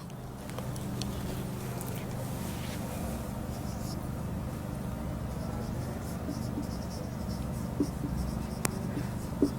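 A pen writes points by hand on paper, giving faint, irregular scratching strokes over a steady low background hum, with no talking.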